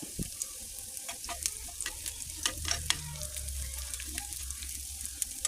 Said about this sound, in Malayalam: കൊച്ചുള്ളി നന്നായിട്ട് മൂത്ത് വരുമ്പോഴത്തേക്കിന് 2-3 ഉണക്കമുളകും കറിവേപ്പിലയും കൂടി അതിനകത്ത് താളിച്ച് കൊടുക്കാം നമുക്ക്